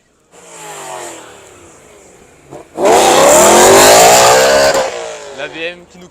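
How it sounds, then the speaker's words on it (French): A Honda S2000 at a car meet in a Lille parking lot revs hard, a loud rising engine wail for about two seconds after a quieter idle, with voices and crowd noise around it. "Très belle Honda S2000."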